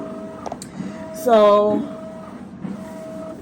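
A Canon TM-200 printer starts a print with a rising mechanical whir and hum that swells for about half a second and then settles into a steady drone, with a brief spoken word near the start.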